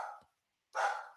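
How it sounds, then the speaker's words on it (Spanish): Dogs barking, two separate sharp barks, one at the start and one after a short silence, fairly close and with no other sound around them. "¡Ay, cómo están los perros!"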